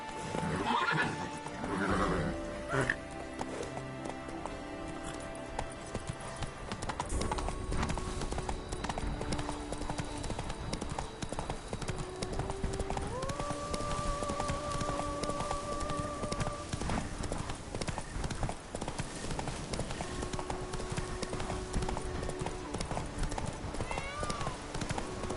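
Roach, a horse in The Witcher 3: Blood and Wine, gallops with steady rhythmic clip-clop hoofbeats and occasional neighs over a continuous game music bed, with a voice briefly heard.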